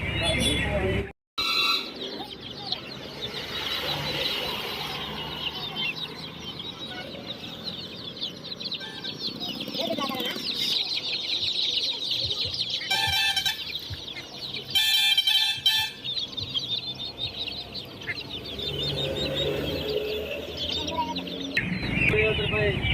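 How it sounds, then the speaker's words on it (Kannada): Chickens cluck and squawk at a poultry market selling native and Giriraja birds, a busy stretch of close calls with occasional crowing and people talking throughout. "ನಮ್ಮದು ಎಲ್ಲ ಕೋಳಿ ಮರಿ ಏನೇನು ಮರಿ ಸಾಕಿದ್ರೆ ಎಲ್ಲ ಐತೆ ಇಲ್ಲಿ ನಾಟಿ ಐತೆ ಗಿರಿರಾಜ್ ಐತೆ"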